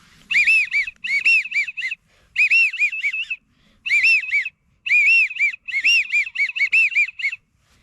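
Bursts of high, wheezy whistled calls from a wigeon duck call whistle repeat in quick groups with short pauses between, clear and close against near silence, imitating a wigeon duck.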